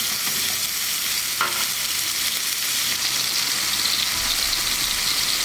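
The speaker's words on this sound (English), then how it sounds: "So while the fish is frying, I'll add some tomatoes on the side," Fish fries in a pan for Kerala-style fish molee, giving a steady, dense sizzle that holds evenly throughout with no one speaking.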